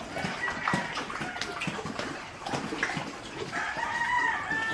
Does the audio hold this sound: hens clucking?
yes